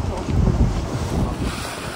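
A sailing boat making nearly nine knots with the current on an early-morning passage along the French coast toward Fécamp, with steady rushing wind and water hissing past the hull, close and continuous.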